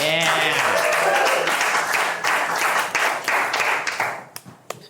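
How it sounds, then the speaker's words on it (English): Comedy festival audience applauding comedian Amanda Arnold, loud dense clapping with some cheering that thins out and fades to a few scattered claps at the end. "Big round of applause right now for Amanda Arnold"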